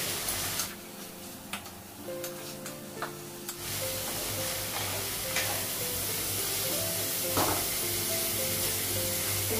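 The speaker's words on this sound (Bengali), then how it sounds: "রসুন বাটা দেবো, আদা বাটা দেবো। মশলাটা একটু ভেজে নেব।" Spices with turmeric and garlic and ginger paste fry in a pan, a steady close sizzle that starts after a few seconds of quieter stirring and scraping, with occasional clicks of a utensil.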